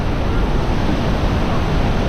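Roaring water and drifting spray at Iguazu Falls in Argentina make a dense, steady broadband rush. It is loud and close and holds constant for the whole stretch, with no breaks.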